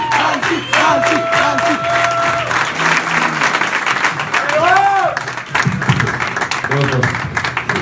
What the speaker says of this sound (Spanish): quiero que recibamos aquí con un muy, pero muy, pero muy fuerte aplauso